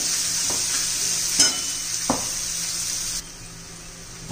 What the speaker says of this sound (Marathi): बारीक चिरलेला कांदा घालायचा आहे. कांदा परतून घेऊया.